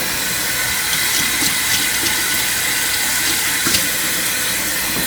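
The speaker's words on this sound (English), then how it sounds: "Just rinse the top of the can off." Tap water runs steadily over the top of a can at a kitchen sink, a close, continuous splashing rush with no talking.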